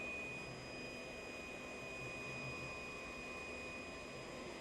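HUAHENG TOA50 orbital open weld head turning around metal tubing, giving a steady, even mechanical whir with a faint constant whine, close and unbroken throughout.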